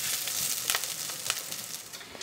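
Garlic and onions frying in a pot on the stove, with a continuous soft sizzle and faint crackles throughout and no voice over it.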